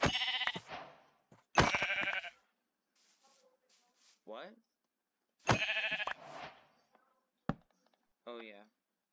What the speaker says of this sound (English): At least there's some sheep over here.